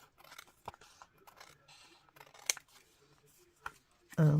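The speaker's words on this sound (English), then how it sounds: "we can rectify that with our scissors. So I'm just going to trim along there" Scissors trim paper craft tags for a bifold pocket tag, giving several crisp, close snips at irregular intervals, with quiet background sounds and a louder burst at the end.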